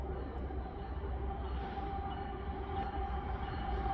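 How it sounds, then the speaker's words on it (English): A train rumbles steadily past a blinking level crossing at close range, a continuous heavy roar of wheels and engine with a low hum underneath. "But I think we got a train coming."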